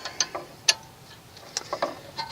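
A wrench loosening a brake bleeder nipple: a few small, sharp metallic clicks and ticks scattered over a couple of seconds, close and fairly quiet, with no talking.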